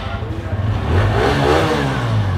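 TVS Radeon motorcycle engine revving steadily during a workshop check, a close continuous mid-pitched drone that rises and holds, with a voice talking over it.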